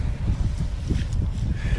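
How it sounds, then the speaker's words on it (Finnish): Low, rumbling gusts buffet the microphone on the West Highland Way in Scotland, a steady blustery roar with no voices. "Se tuulee, kun tuossa on tommonen aukee"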